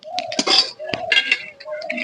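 Fried prawn heads being lifted from a pan, heard as a few close metallic clinks and scrapes of utensil against cookware, with a voice speaking briefly alongside.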